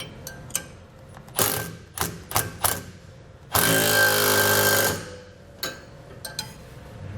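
Several bursts of ratchet clicking come from a ratchet with an 11/16 socket tightening a bolt on a TorkLift StableLoad lower overload spring beside a leaf spring stack. Scattered single clicks lead into a loud, sustained run of rapid ratcheting up close, followed by a few more clicks.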